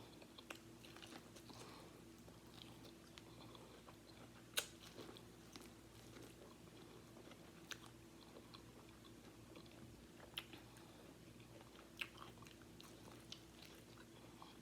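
Fresh, sweet corn on the cob being bitten and chewed up close, with crisp crunchy bites and wet chewing recurring over a steady low hum, and no talking.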